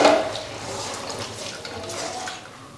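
Ingredients for chicken korma with vegetable oil and salt are stirred in a cooking pot, giving soft scraping and clinking of a utensil against the pot with wet, sloshing movement, steady and close.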